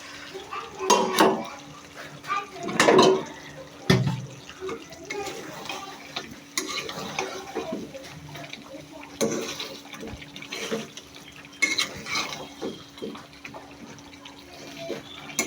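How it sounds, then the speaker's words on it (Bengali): Potatoes and meat being stir-fried together in a pan, with intermittent clanks of a spatula or spoon against the metal and a low background hiss, with a voice talking at times. "পুরোটাই মাংসের সাথে কষায় নিচ্ছি"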